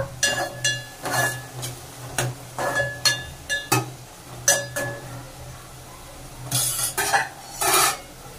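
Egg curry stirred in a pot after the lid comes off, with a steady low hum of the stove under scattered metallic clinks and scrapes of a spoon against the pot, growing busier toward the end.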